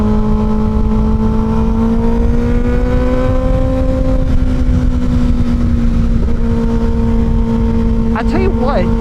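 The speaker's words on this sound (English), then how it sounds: "this bike just wants to keep and keep" A Kawasaki Ninja ZX-6R 636 middleweight sport bike holds a steady engine drone while riding, with the pitch slowly rising and easing, heavy wind rush throughout, and a brief blip near the end.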